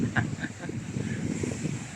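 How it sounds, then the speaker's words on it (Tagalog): Gusty wind buffets the microphone with low rumbling rushes on a beach among pine trees in Zambales, with large waves surging in the distance beneath, no clear speech. "malakas yung hangin."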